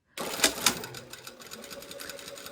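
A home sewing machine runs a steady top stitch a quarter inch from the edge of dress fabric flaps, starting abruptly with a couple of louder thumps and settling into rapid, even needle clatter up close.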